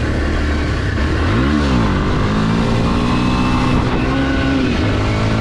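A Kawasaki KLX230 motorcycle engine revs hard and close, a loud, continuous roar that swoops up and down in pitch as the throttle is worked, with no voices.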